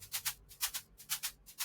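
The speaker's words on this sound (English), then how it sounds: "So there's a shaker loop that kind of sounds like this." Shaker percussion loop in an Afro house track, playing a steady rhythm of soft, crisp shakes in a quiet, dry loop.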